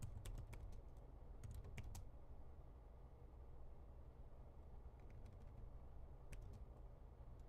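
Computer keyboard keys tapped in scattered bursts of quick clicks, with pauses between runs, close but fairly soft over a steady low background hum while code is written.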